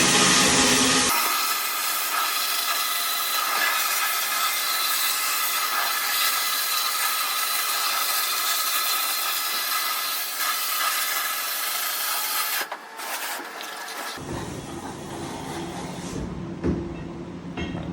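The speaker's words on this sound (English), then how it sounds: "cast aluminum is probably one of my favorite materials to blast because it gets such drastic results so fast and so efficiently" Abrasive blasting strips paint and grease from cast aluminum triple clamps off a Honda 200X three-wheeler: a steady, loud, hissing blast stream runs almost without break, shifting in tone near the end as the nozzle moves.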